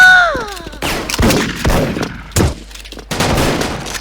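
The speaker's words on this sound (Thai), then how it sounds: "ยิงไม่ทันปืนเขาเร็วกว่า" Gunshots in a shooting video game with an M110 SASS rifle, several sharp loud cracks spaced irregularly across a few seconds, following a brief electronic game tone.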